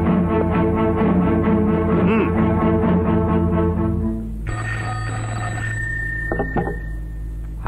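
An old telephone bell rings loudly in repeated bursts for about four seconds before giving way to quieter room sounds.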